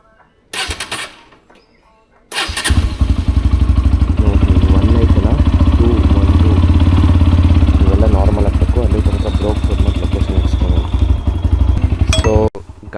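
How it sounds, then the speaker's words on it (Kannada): Bajaj Pulsar NS125 motorcycle cold-starting up close: a brief crank and pause, then the engine catches and settles into a loud, steady rhythmic idle that runs on for about ten seconds before a sudden cutoff, with a voice talking over it. "ಗಾಡಿ ಏನು ಕೋಲ್ಡ್ ಸ್ಟಾರ್ಟ್ ಆಯಿತು"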